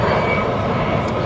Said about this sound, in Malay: Mungkin jauh kot pandangan korang kapal terbang Asia. Dia lalu je.